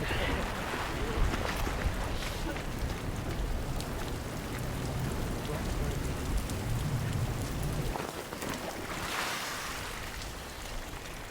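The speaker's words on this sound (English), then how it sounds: "The rain's still sheeting down" Heavy rain pours steadily over an outdoor archaeology excavation, a dense continuous hiss with gusty wind and some voices mixed in underneath.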